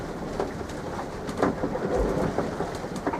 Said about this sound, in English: So there's a gale blowing and thunder and lightning, rainstorm.